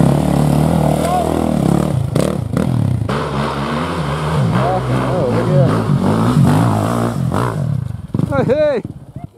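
A 450 enduro dirt bike labours up a steep hill climb, its engine revving and bogging in loud bursts with clattering, and a sharp rev rises near the end while people talk over it.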